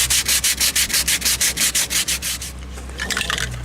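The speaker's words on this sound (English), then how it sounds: "get a piece of sandpaper. Put it on a block of wood." Sandpaper wrapped on a block of wood rubs back and forth over a car body panel in about fifteen even, loud rasping strokes, then a quicker, softer scrubbing at the end.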